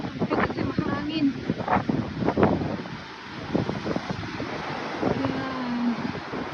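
Strong wind buffets the microphone at Glass Window Bridge on Eleuthera, Bahamas, with a roaring gusty wash of sea and wind throughout, while a person talks over it.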